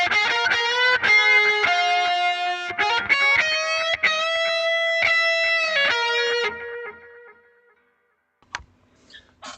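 A distorted electric guitar through a Line 6 Helix amp modeler, with one speaker turned off, plays sustained chords and a short riff, then rings out and fades, followed by a few faint clicks.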